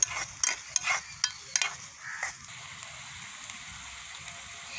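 Food is stirred in a miniature cooking pot, with a run of quick light scraping taps over the first couple of seconds that give way to a soft, steady sizzle.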